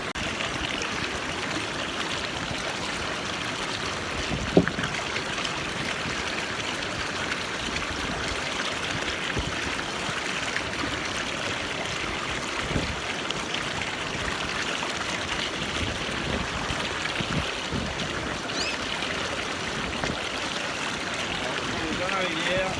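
A river stream flows steadily while a Lifestraw-type carbon water filter is filled, giving a continuous broadband trickling wash with a few small knocks near the start and no voices.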